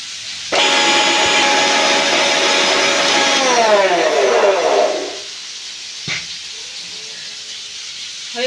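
A kitchen mixer grinds green chillies and garlic with a little water into a paste, a loud close whirring roar that runs for about four seconds, winds down, then falls silent before a faint click.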